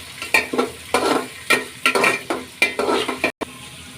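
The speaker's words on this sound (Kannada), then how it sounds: "ಈಗ ಈರುಳ್ಳಿ ಸೇರಿಸ್ಕೊಳ್ಳೋಣ." Onion frying and being stirred in a pan for tomato upma: repeated scraping stirs over a steady sizzle, close and fairly loud, with a brief dropout near the end and no voices.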